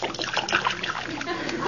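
Johnson's Glo-Coat self-polishing floor wax poured out onto a floor, a close, continuous wet splashing and trickling that runs steadily for the short stretch.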